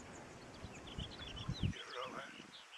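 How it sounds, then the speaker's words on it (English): A wrentit calls with short, quick chirping notes amid leaf rustle and low handling noise, moderately close, in the Santa Ana Mountains. "heard a wren tit"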